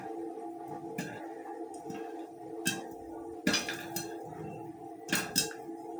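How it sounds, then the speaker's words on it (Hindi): Popcorn popping while cooking: scattered sharp pops and clinks over a steady hiss and hum, irregular and fairly faint, a few close together mid-way and toward the end. "मैं थोड़ी देर के लिए चुप होती हूँ और आपको पॉपकॉर्न की आवाज़ सुनाती हूँ।"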